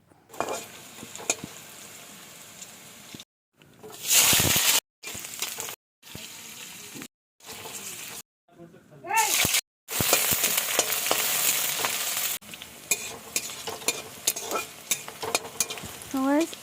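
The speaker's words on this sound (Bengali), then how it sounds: "তেল গরম হয়ে গেছে। আর এখন আমি পেঁয়াজগুলো ভেজে নেব।" Onions, garlic and green chillies fry in hot oil with a bright, crackling sizzle and occasional stirring scrapes. The sound cuts in and out in short segments, then runs steadily toward the end.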